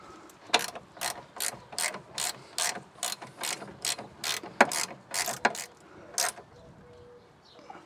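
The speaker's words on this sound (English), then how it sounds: "we'll install our new nylon locking nuts and then begin tightening them down" Rapid ratchet clicks in about a dozen short, evenly spaced bursts as nylon locking nuts are tightened on a BMW 7 Series E65/E66 sway bar drop link, loud and close with no talking.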